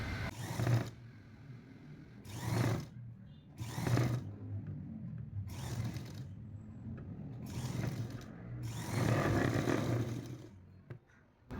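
A sewing machine stitches a blouse in short repeated bursts of mechanical whirring, roughly five or six runs separated by brief pauses, heard fairly close and at moderate volume.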